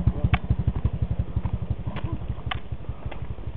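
A Honda Karisma motorcycle hauling loads through a forest runs with a rapid, thumping engine pulse close by, a rhythmic chugging beat with faint clatter.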